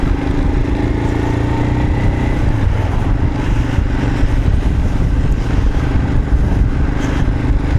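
A Royal Enfield Himalayan motorcycle on the move, its single-cylinder engine holding a steady, loud, even drone with continuous wind rush, close up and with no talking.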